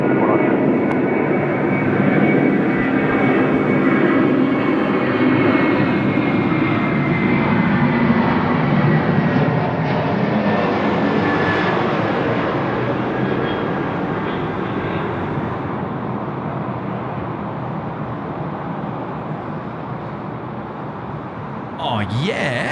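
An airliner comes in to land on runway 16 right at Sydney Airport, its jet engines a loud, sustained roar that slowly shifts in pitch and fades slightly, with voices talking faintly underneath.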